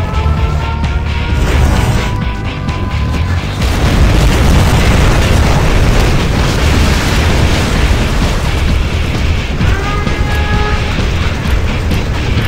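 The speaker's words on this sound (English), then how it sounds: "We have launched our nuclear missile." A nuclear missile detonation in the strategy game Red Alert, a loud, sustained rumbling blast that fills the whole stretch with dense roaring noise and rolling low booms, with brief tonal sweeps near the start and end.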